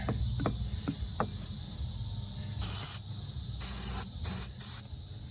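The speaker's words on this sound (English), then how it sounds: "This is just some carb cleaner." Carb cleaner hisses from an aerosol can in short bursts onto the fuel pump of a 2006 Dodge Ram 1500 Mega Cab, several close sprays with pauses between them.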